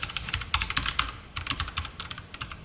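Quick, close clicking of a computer keyboard while code is typed in a JSP web programming lesson, keystrokes coming in short irregular bursts with brief gaps, alone without speech.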